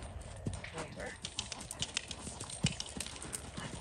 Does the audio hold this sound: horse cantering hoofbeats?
yes